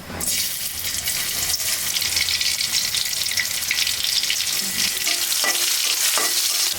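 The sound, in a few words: onions and chillies frying in oil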